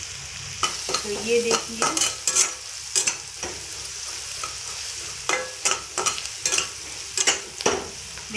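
Diced potatoes being stirred and fried in a pan for poha, with irregular close scrapes and clinks of a spoon over a soft sizzle; someone speaks briefly.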